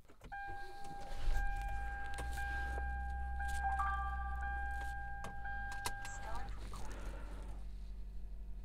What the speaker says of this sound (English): I just started my car.